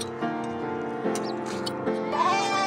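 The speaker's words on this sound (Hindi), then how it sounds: "यहाँ पे भेड़ रखा जाता है, और रात को यहीं पे रुकती हैं सब" Sheep in a village pen give repeated wavering bleats, several animals calling one after another at close range, with a voice talking over them.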